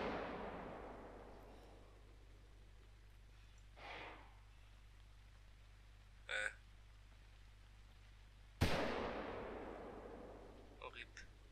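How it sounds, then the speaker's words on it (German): A rifle shot fired at a wisent in the hunting game theHunter: Call of the Wild: one sharp, loud report late on with a long rolling echo tail, over a low steady hum and a few faint earlier noises. "Okay, ich schieß."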